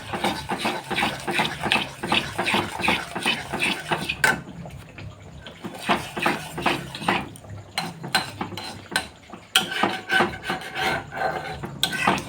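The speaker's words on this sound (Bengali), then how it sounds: "ততক্ষণ না চিনি এই মিশ্রিটা আমার গলে না যাচ্ছে ততক্ষণ আমি এই যে নাড়তে থাকবো" Rock sugar is stirred in a pan until it melts for a poppy-seed kheer, giving steady, rhythmic gritty scraping strokes against the metal, close and fairly loud, with a couple of brief pauses.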